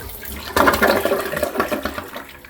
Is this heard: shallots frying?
no